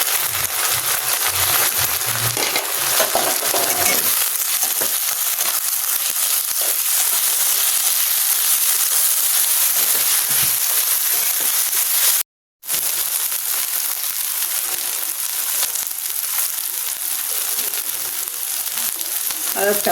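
Ginger and garlic frying and stirred in a pan while making chicken kheema filling for samosas, a loud continuous sizzle with scraping stirs, broken by a brief silent gap midway.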